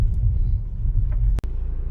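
Low traffic rumble fills the inside of a car stuck in traffic, a steady loud throbbing hum with one brief dropout near the end and no talking.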